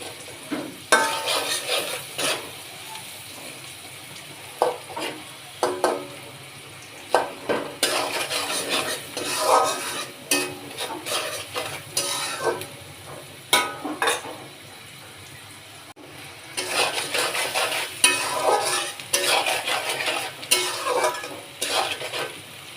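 Green chilies are tossed into hot oil with turmeric powder and stirred in a pan, sizzling steadily at close range while a utensil repeatedly scrapes and clatters against the metal in uneven bursts, with no voices.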